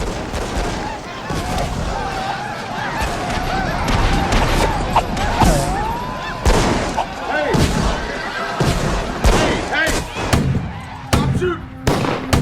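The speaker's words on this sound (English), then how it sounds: "Stop shooting!" Rapid gunfire crackles in repeated bursts, loud and close, mixed with sharp single shots and shouting voices throughout.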